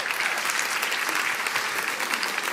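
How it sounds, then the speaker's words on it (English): An audience at a challenge grand final applauds Team Heritage with dense, steady clapping, loud and sustained for the whole stretch with no speech over it. "Round of applause for Team Heritage."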